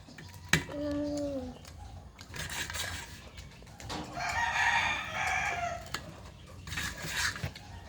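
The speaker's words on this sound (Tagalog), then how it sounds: "Magpapakain si Borlito ang manok" Chickens cluck and a rooster crows faintly in the background, with some soft child-like voices and outdoor noise around them.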